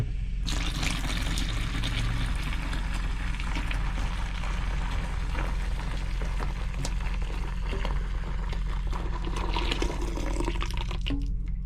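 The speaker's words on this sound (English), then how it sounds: "turn that off and add our 2 litres of hot water" A steady stream of hot water pours from a kettle and splashes into a container, constant and fairly loud, with a low hum underneath.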